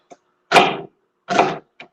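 Knife chopping two celery stalks on a kitchen board, two crisp crunchy cuts with faint light taps before and after, close and unaccompanied.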